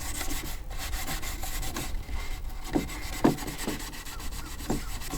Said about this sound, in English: I'm just sanding down the faces of them lightly